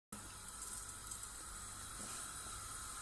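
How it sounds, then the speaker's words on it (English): Nigella seeds sizzling in hot oil in a pan while spicing rice: a faint, steady hiss that fills the few seconds evenly with soft crackle, and no voices. "Once the oil is hot, you can add some Nigella seeds if you have."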